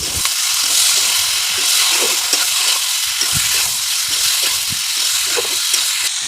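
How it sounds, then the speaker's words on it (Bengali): Chicken scraps with spices sizzle loudly in a frying pan as a spoon stirs them, scraping in an irregular rhythm over a constant hiss of hot oil. "এবার ভালো করে নেড়ে নেবো"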